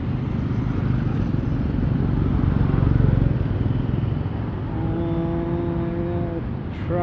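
Busy Saigon street traffic of cars and motorbikes rumbles steadily close by, with a continuous engine drone and a horn-like tone near the end.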